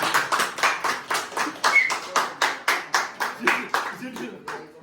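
Family members at a brother's birthday celebration clap together in a slow, steady rhythm, about a dozen distinct claps close to the microphone, fading at the end.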